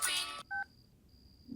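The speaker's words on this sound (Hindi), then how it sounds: "इस वक्त किसका फोन आ गया?" A telephone in a home gives a short, clear electronic two-tone beep after a burst of noise, followed by a thin, faint sustained tone.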